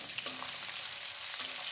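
Steady hiss of spices sizzling in hot oil, with a couple of brief stirring clinks; no voices.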